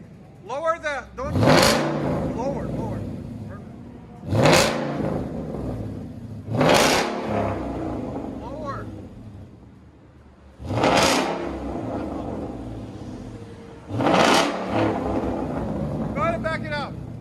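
A Ford Mustang 5.0 GT V8 with an aftermarket exhaust is revved close by in five sharp, separate bursts, each surging then falling back toward a low idle.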